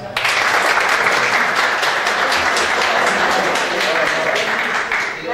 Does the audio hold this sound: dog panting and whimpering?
no